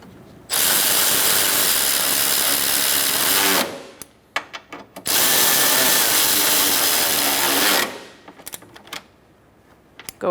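Power ratchet or driver tightening bolts on a 2014-2019 Kia Soul 1.6L AC condenser, two loud continuous buzzing runs of about three seconds each, each followed by short clicks and rattles.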